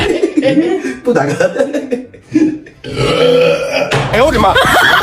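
Someone burps after gulping Coke, several loud close belches breaking through, mixed with chuckling and voices talking around them.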